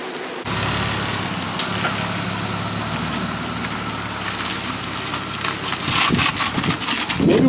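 A BMW E36 pulls away with a steady engine drone and broadband road and exhaust rumble, fairly loud and continuous, swelling slightly toward the end.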